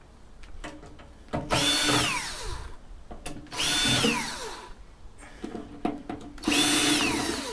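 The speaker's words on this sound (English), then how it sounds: "find a smaller drill bit" A power drill bores into a scrap Cisco network chassis in three whining bursts, each rising and falling in pitch, separated by short clicks and handling noises.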